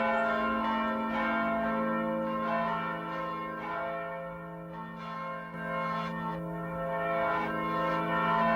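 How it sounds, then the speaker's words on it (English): A large bell rings out repeatedly, its rich sustained tones overlapping and ringing on in a slow, steady rhythm. "I hear the sound of a bell starting to ring"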